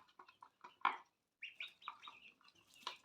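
Young ducklings and quail chicks peeping in quick, high, thin chirps, scattered and irregular, close but quiet with brief gaps.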